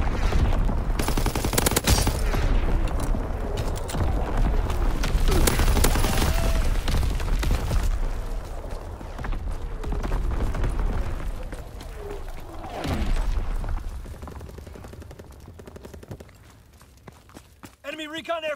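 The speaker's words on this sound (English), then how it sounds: "Incoming enemy artillery!" Incoming enemy artillery in the World War II shooter Call of Duty WW2 on PS4 brings heavy bursts of explosions and gunfire mixed with running footsteps, loud and chaotic at first, then thinning out toward the end.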